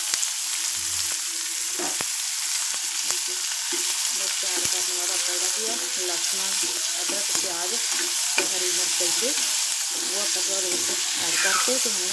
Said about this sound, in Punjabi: ਆਪਾਂ ਚੰਗੀ ਤਰ੍ਹਾਂ ਫਰਾਈ ਕਰਦੇ ਹਾਂ ਜਿਹੜਾ ਆਪਣਾ ਫਰਾਈ ਹੋ ਰਿਹਾ ਹਾਫ ਫਰਾਈ ਹੋ ਗਿਆ